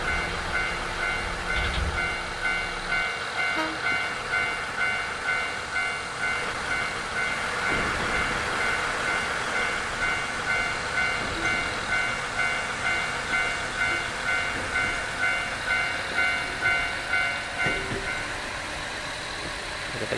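A train in the video game Nostalgic Train runs steadily with a continuous rumble and a regular rhythmic clatter of wheels on the rails, heard alone with no talk over it.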